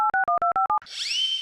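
Phone network tone after calling a switched-off mobile, heard in a TV comedy sketch: about six quick two-pitch electronic beeps in an even rhythm, followed by a rising, shimmering electronic swell, loud and close.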